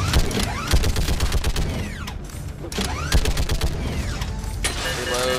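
Rapid bursts of gunfire in the sci-fi shooter Mass Effect 3, sharp repeated shots in quick clusters with mechanical clanks between them, loud and busy throughout.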